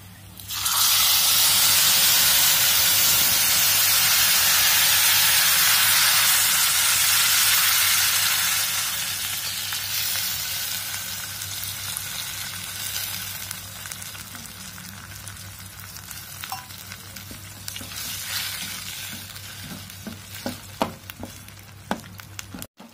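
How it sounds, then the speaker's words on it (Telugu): Tamarind pulp hits fried lentils in a pan for a village-style jackfruit curry. A loud, bright sizzle bursts out, then settles into a quieter simmering crackle with scattered utensil clicks and scrapes, with no talking. "ఇప్పుడు దీనికి మనం కూరకు సరిపడగా చింతపండు గుజ్జుని కలుపుకుని కాసేపు"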